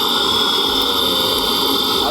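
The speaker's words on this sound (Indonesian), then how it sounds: "Kita dengerin nih suara mesin pertama kali dinyalakan" The supercharged engine of a Jeep JK runs loud and close, with a steady rumble under a sharp, constant high-pitched supercharger whine.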